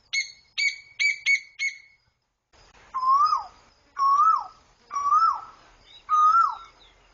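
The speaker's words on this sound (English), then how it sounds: "You can listen to the cooing of the cuckoo." A cuckoo calls outdoors: a quick run of high chirps, then four separate slurred, hooting calls spaced evenly, clear and unaccompanied.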